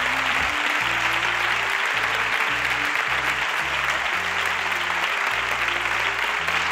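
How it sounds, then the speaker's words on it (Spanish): A studio audience on a Spanish television game show applauds loudly and continuously. The clapping has a steady rhythm over a bed of low music. "Y este fuerte aplauso del público"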